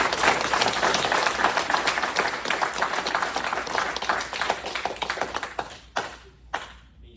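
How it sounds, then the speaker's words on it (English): An audience claps for a man at a black collar ceremony. The applause is dense and sustained, then thins out and breaks into a few scattered claps near the end. "Let's give him a round of applause"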